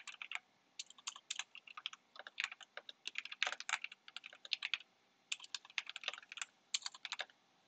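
Rapid keystrokes on a computer keyboard during an introductory programming lesson, coming in irregular bursts of clicks with short pauses between them, close and fairly quiet, with no one talking.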